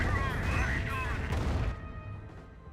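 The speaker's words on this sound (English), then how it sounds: "5P rocket barrage hitting over here" Rocket barrage explosions in Company of Heroes, a cluster of booming blasts and crackling impacts that fade into quieter rumble, with someone talking over them.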